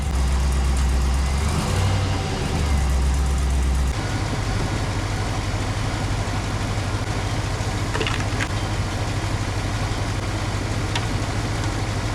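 An old pickup truck, the owner's first, idles in neutral after a transmission replacement, a steady low engine drone with a brief rev early on and faint clicks.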